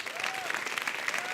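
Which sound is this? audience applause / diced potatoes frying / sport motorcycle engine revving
audience applause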